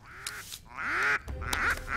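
A cartoon duck quacks three times in quick succession, loud and nasal, each a raspy squawk close up with brief gaps between them.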